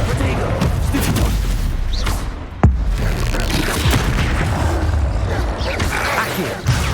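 Confringo fire-blast spells boom repeatedly in a Hogwarts Legacy arena battle, dense low rumbling explosions packed together with a sharp crack near the middle, under game voices calling out spells.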